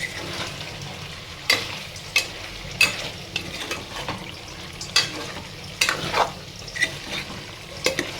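Chicken sizzles in oil in a pan while a utensil stirs it, giving steady frying hiss with sharp irregular scrapes and clacks close by.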